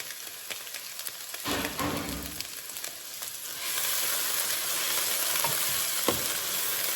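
Lentils sauteing in sesame seed oil in a pan, a steady broadband sizzle that grows a little louder partway through, with brief stirring scrapes and clatters near the start and end.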